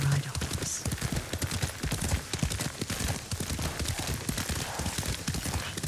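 A horse's hooves clip-clop at a steady trot during a ride in the video game Ghost of Tsushima, with a brief whinny near the start.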